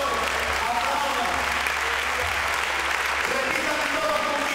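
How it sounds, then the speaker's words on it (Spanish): A church congregation claps at a worship conference, a dense, loud, continuous roar of applause from many hands that holds steady throughout, with voices faintly beneath it. "El pueblo aplauda, la iglesia aplauda, los pastores aplaudan."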